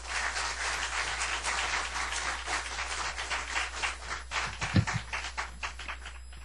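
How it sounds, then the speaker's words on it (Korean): A church congregation gives sustained applause to welcome a guest speaker, a dense, even clapping that fades slightly toward the end, with a brief thump near the close. "우리 환영하는 모습으로 우리 박수 한번 보내드리겠습니다"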